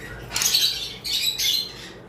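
Lovebirds, high-mutation pairs including green Fischer's with ewing, give harsh, loud squawks close by in three bursts, each shrill and raspy, with no talking over them.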